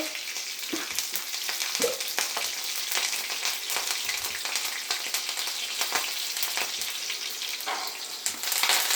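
Mustard seeds and green chillies frying in hot oil, a bright, steady sizzle with rapid popping and crackling close up, with occasional stirring.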